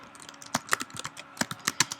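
Fingers typing on a computer keyboard, a quick irregular run of crisp close key clicks of varying loudness, with no talking.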